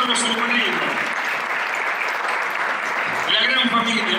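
Dense audience applause fills an event hall in a continuous wash of many hands clapping, with voices of the crowd mixed underneath.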